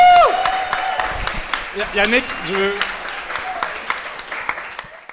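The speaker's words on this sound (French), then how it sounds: "Applaudissez-vous, s'il vous plaît." Audience applause in a bistro during a live podcast recording, with scattered clapping and cheers that fade out while people talk over it.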